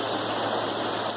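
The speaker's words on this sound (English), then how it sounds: "Love the rain." Heavy rain pours steadily onto a backyard, a dense, even hiss of drops hitting surfaces and equipment, loud and close with no breaks or voices.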